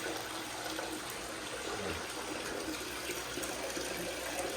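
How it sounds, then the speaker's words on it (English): Water trickles steadily from a small garden waterfall, a close, continuous splashing and gurgling wash with no voices over it. "The waterfall."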